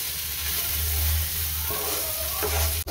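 Okra and green chillies frying in a pan for achari bhindi, a steady close sizzle with a low hum underneath and a brief stir near the end, no talking.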